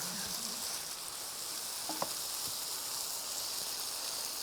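Vegetables and soy sauce for san choy simmer in a pan with a quiet, even hiss and sizzle, broken by a single light utensil tap, with no voices.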